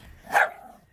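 A single dog bark, one short mid-pitched burst at some distance outdoors during a walk, standing out clearly over faint background noise.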